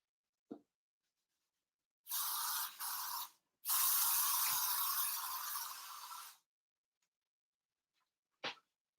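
A few spray bursts of cranberry-scented air freshener: a long hissing spray, then a second, longer blast. Short faint taps come before and after.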